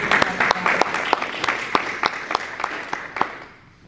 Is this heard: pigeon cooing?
no